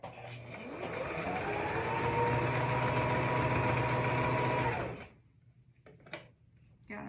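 Sewing machine stitching through fabric while making a child's hat, a close steady mechanical whir for about five seconds that shifts in tone as it passes thicker fabric, then stops, followed by light handling noises.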